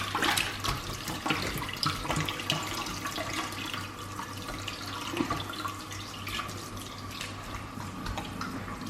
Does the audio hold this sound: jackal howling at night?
no